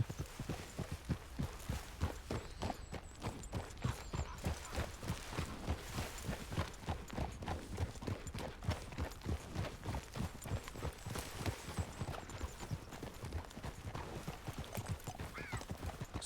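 Steady clip-clop of a horse's hooves while riding through the Red Dead Redemption 2 game world, a regular walking rhythm that stays close and even, with low ambient sound beneath and no talking.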